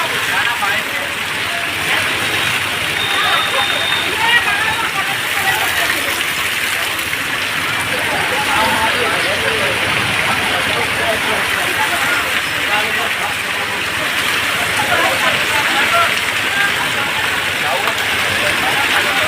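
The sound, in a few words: heavy rain pouring down in village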